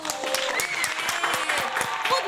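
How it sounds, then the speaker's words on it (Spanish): Applause from a podcast studio audience, a steady wash of claps beneath a voice talking over it throughout. "le damos un fuerte aplauso a Footloose"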